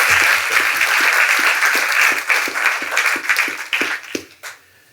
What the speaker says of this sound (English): let's give one more round of applause to Peter MacDonald.